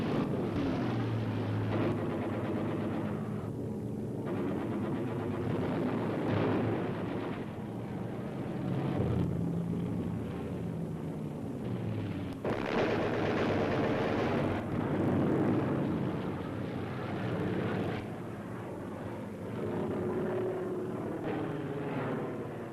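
Propeller warplanes flying in formation during the Battle of Britain, a dense, continuous engine drone with swelling and fading passes and rumbling bursts, loud throughout the whole stretch.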